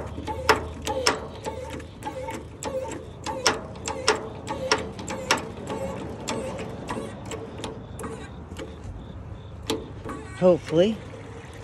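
Pump being primed through a hose, a series of sharp mechanical clicks and clacks in an irregular rhythm, close and fairly loud, with a short spoken word near the end.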